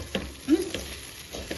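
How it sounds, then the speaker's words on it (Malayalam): Soft, dry sizzling of spices roasting in a hot pan, with a brief scrape of stirring partway through. Faint and close, no voices. "വറുത്തെടുക്കാം"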